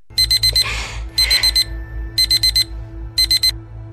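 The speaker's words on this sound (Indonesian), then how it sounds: "alarmnya berbunyi yang menandakan bahwa waktu kontrak 25 menit telah habis" An alarm clock rings loudly in four bursts of rapid beeping, each burst made of four quick electronic tones, with a low steady hum and a brief rustle underneath.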